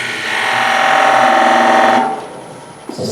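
Skew chisel cutting a pencil line deeper into wood spinning on a lathe, a steady scraping, buzzing cut over the lathe's hum for about two seconds, then quieter running.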